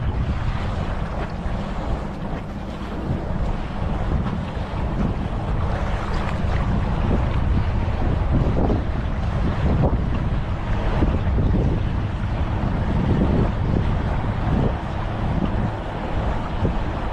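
Motorboat passing on Lake Mead near Hoover Dam, a steady broadband engine and hull rush mixed with wind buffeting and water noise, holding at a constant level throughout with no talk.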